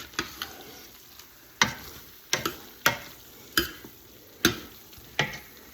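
Minced garlic fries in a pot over low heat with a faint steady sizzle, while a utensil scrapes and clicks against the pot in sharp, irregular strokes, about ten in a few seconds.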